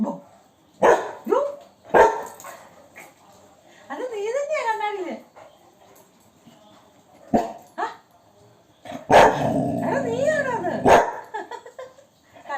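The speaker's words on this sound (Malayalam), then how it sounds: "കണ്ണാടി പോയിട്ട് കുരയ്ക്കുവാ" A Labrador dog barks at its own reflection in a mirror, giving several sharp close barks mixed with drawn-out whining, yelping cries, while a person talks nearby.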